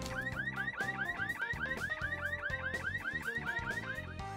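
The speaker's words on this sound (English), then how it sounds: "I hit him into the car alarm?" A car alarm blaring in the video game Hitman 2, a loud rapid repeating siren of rising chirps pulsing steadily and close throughout, with no talking.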